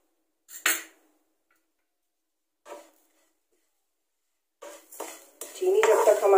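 Semolina and sugar roasting in a pan over medium flame, heard as a few separate metal spoon scrapes and clinks with silent gaps, then a busier stretch of continuous scraping near the end, close and with no talking.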